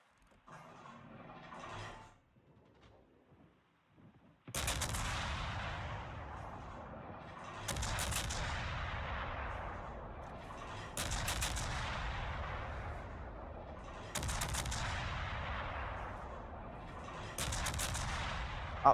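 Naval guns on the destroyer USS Hull fire in a video game, five loud booming salvos at roughly three-second intervals, each decaying into a rumbling tail, after a few quieter mechanical noises at the start.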